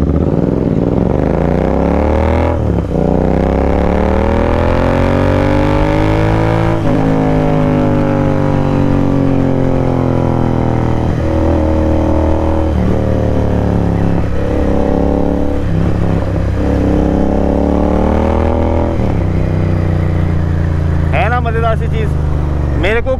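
Motorcycle engine fitted with a new iridium spark plug, revving repeatedly in loud rising and falling bursts close by, throttle blipped several times with brief dips between revs.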